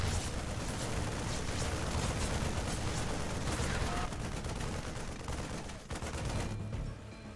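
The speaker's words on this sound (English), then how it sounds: "these auto turrets are doing a banger's job here" Dense, continuous rapid fire from auto turrets fills a StarCraft match, a loud wash of overlapping shots and blasts with quieter moments near the end.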